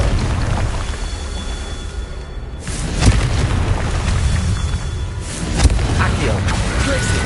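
Confringo fire-blast spell from the Hogwarts Legacy video game, dense rumbling combat noise with two sharp booming bursts, one around the middle and another near the end.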